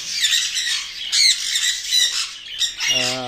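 Pet birds, including a pair of Alexandrine parakeets, squawk loudly and close by in harsh repeated bursts, then one call rises into a lower, rasping tone at the end.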